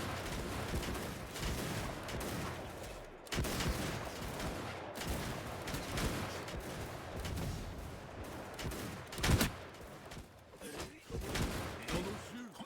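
Gunfire in a video game battle fought with Japanese tactics: dense, overlapping volleys of shots and bangs, fairly faint and continuous throughout.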